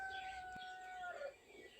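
A single rooster crows once, a fairly quiet, sustained call that bends downward at the end, heard alone against a soft background.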